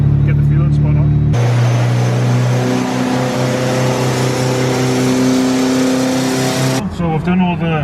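A tuned VW Mk2 Golf engine on a dyno climbs into a loud, sustained rev with a strong droning tone. It holds near and steady for several seconds, then cuts off abruptly to idle-level noise.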